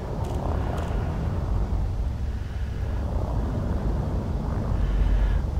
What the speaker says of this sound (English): sort of aeroplane propeller sound from within the cockpit as well as outside